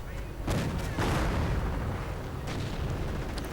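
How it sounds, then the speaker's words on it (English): Artillery fire in a World War II strategy video game, heavy booms and rumbling blasts rolling one after another in a dense barrage, with a commentator talking over the battle din. "And there we go, artillery."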